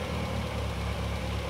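A 1966 Triumph Spitfire engine idles steadily at close range while its carburettor is adjusted, giving a low, even hum with no talk over it.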